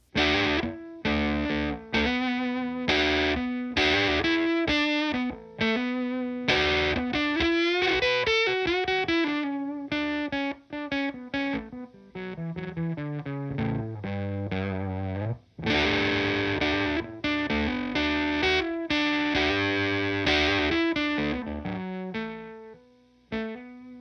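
An instrument played through a vintage distortion effect gives gritty, sustained tones in a run of phrases, some notes clipped short and others held, loud and close with no talking.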